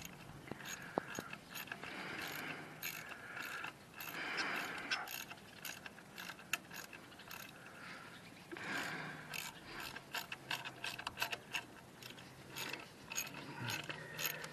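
Ratchet wrench tightening the bolts on a Triumph Trident motorcycle's belly pan, a steady run of close, crisp clicking bursts with brief pauses between strokes and no talk.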